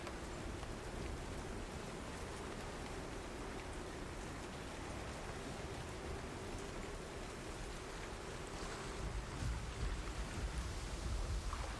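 Heavy storm rain pours steadily as a dense, constant wash of broadband noise with a faint low rumble, holding at an even level throughout with no voices.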